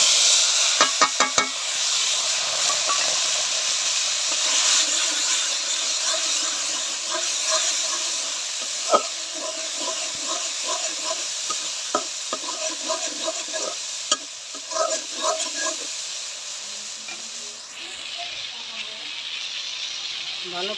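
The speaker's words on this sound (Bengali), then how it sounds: "এবার মশলাটা কষাই নেব।" Spice paste of dried red chilies, cumin, chili powder and coriander powder being stirred and fried in hot oil for a fish curry, a steady close sizzle with repeated scraping stir strokes throughout; a voice is present at times.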